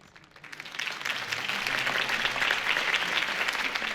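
Video game crowd applause in Telltale's Batman, Episode 1: Realm of Shadows, swells after a brief moment into sustained, dense clapping that carries on to the end.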